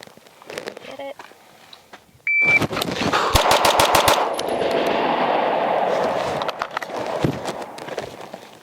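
Pistol shots fired in a rapid timed drill with a Ghenghis Comp C2X compensator: a timer beep, then six sharp, evenly spaced loud cracks in quick succession, followed by lingering outdoor rumble and a few faint later clicks.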